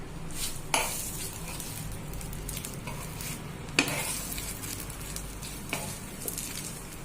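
Stuffed Khandeshi chillies roast in a pan with a steady low sizzle and occasional sharp clinks of a utensil against the pan, close and moderately loud.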